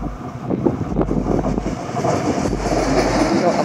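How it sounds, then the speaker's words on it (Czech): A train rumbles past nearby near Mladotice, Czech Republic, with a low, heavy drone and rhythmic clacking of wheels over rail joints, plus some wind buffeting the microphone. "a právě jde vlak od Žadce"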